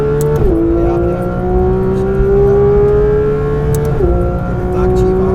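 Porsche 911 GT3 RS 992 accelerating hard at the Velo Città circuit, its high-revving engine screaming loud and near, pitch climbing steadily with two quick dips at gear changes.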